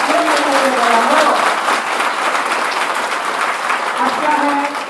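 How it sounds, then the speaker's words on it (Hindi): Students applauding for themselves at a coaching institute gathering, a dense, steady wash of many hands clapping for the full length, loud and close, with talk running over it. "तो पहले थोड़ी सी तालियां खुद अपने लिए"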